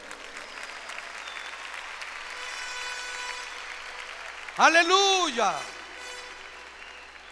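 A church congregation in Honduras claps in praise, a steady soft patter of applause through the room, broken midway by a loud sung shout from a voice before the clapping carries on.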